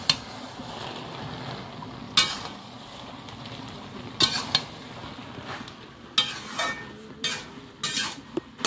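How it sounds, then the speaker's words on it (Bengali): A spatula stirring a pot of chicken curry cooked with elephant foot yam, giving sharp scraping strokes against the metal every second or two over a soft simmering hiss; no talking. "এবার খুন্তি চালানো যাবে।"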